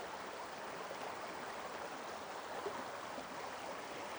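Steady broadband rush of a creek flowing at Ricketts Glen State Park, a constant close wash of water with no breaks.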